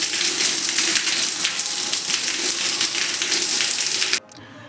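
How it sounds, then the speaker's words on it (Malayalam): Heavy rain pouring down outside a house on a festival day in Kerala, a loud, dense, steady hiss of water on surfaces that cuts off abruptly near the end. "ഇവിടെ നല്ല മഴയാണ്."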